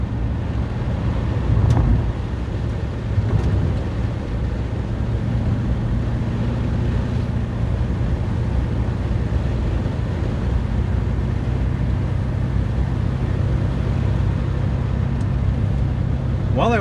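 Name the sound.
Porsche 944 with 6-liter LS engine swap driving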